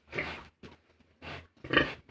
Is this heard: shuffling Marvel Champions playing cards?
no